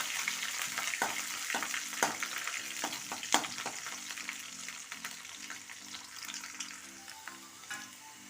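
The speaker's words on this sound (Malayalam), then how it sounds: "അതിലേക്ക് കുറച്ച് ഒരു പത്തിരുപത് വെളുത്തുള്ളി അരി അതൊന്ന് വഴറ്റി കൊടുക്കാം" Garlic cloves sautéing in hot oil in a pan for lemon pickle, a steady close sizzle with scattered crackles and occasional stirring scrapes, no voices.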